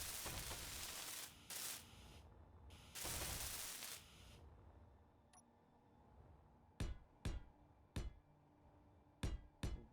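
A welder tool working on blocks in the video game Space Engineers gives a long, loud hissing buzz in two stretches, followed by a quiet pause and then a series of short, sharp clicks spaced out one after another.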